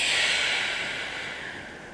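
A long, deep exhale during a seated stretch, a close, breathy airy rush that starts strong and slowly fades over about two seconds, with no talk.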